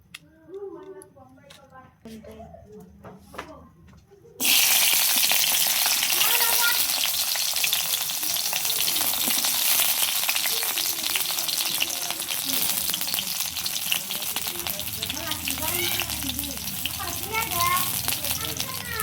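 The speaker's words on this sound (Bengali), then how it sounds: "মরিচ ভাজা নিব আর রসুন তেলে অল্প ভাজা নিব" Chillies and garlic frying in oil in a wok: after a few seconds of quiet talk and clatter, a loud, dense sizzle bursts in and continues steadily, close by.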